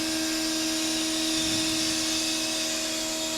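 A wood lathe spins with a steady motor whine while a gouge makes a cleanup cut on a dried wood bowl core, giving a continuous close hiss with a faint swell of cutting noise partway through.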